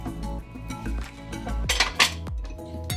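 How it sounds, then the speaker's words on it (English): A whisk beating ingredients together in a bowl gives a steady run of clinking, scraping strokes against the sides, close and fairly loud, with a few sharper metallic knocks, no voices. "every time I add an ingredient, I like to whisk everything"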